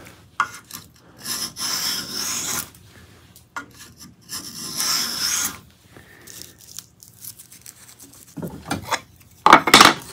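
Veritas miniature hand plane shaving wood in bursts of dry, rasping strokes, several long passes separated by pauses, close and fairly loud, ending with a few sharper scrapes.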